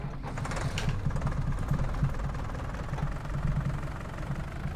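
Tractor engine chugging steadily in a farming video game, a low rumbling idle with a rhythmic knock that holds at a constant level throughout.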